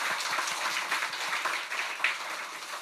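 A church congregation applauds the choir after a hymn at a Sunday joint service, a steady, moderately distant patter of many hands clapping for a few seconds with no talk.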